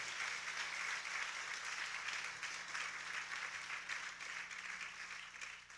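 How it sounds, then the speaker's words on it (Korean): Steady, dense applause from a church audience after a student performance, even and sustained throughout, moderately distant with no talk over it. "다시 한번 우리 큰 박수로 축하하도록 하겠습니다."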